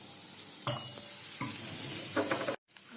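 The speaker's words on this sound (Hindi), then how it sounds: "प्याज भून रहा है" Onions sizzle in a pan, a bright continuous hiss up close, punctuated by three or four scraping stirs before cutting off abruptly near the end.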